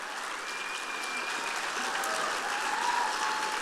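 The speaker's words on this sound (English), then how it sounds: "let them stand up and give them a round of applause" A conference audience applauds Illinois legislators with steady, dense clapping that holds evenly throughout, sounding full and close with no voices over it.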